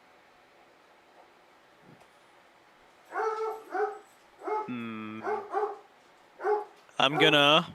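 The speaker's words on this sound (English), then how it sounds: "Sorry about the dog." A dog barks in the background of a tabletop fantasy role-playing session, with several short harmonic bursts spread over a few seconds, partly mixed with people talking.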